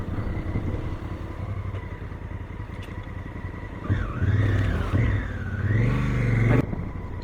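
Honda CRF1000L motorcycle on knobby tires, engine droning steadily at cruise, then revving and rising in pitch through several throttle surges near the end, loud and close with wind rumble.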